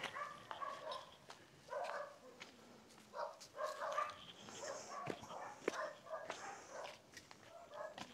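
A dog barks in short, irregular yips and bow-wows near a trail to a waterfall in Aguinaldo, Cavite, with faint background ambience.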